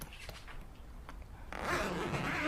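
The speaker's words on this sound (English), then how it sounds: "This top zipper opens up to the inside." A zipper rasps open on a motorcycle roll bag for a 2008 Harley-Davidson Road Glide. It starts with a few faint ticks, then swells into a steady, close, moderately loud zipping over the last second, with no talk.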